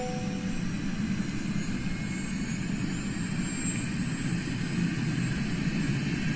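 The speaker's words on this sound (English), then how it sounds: "this is my very first flight in this helicopter, so we're just going to go ahead and get her ready for takeoff" Airbus H160 helicopter engine idling on the ground before takeoff in Microsoft Flight Simulator 2020, a steady, even whine and low rumble that holds constant throughout.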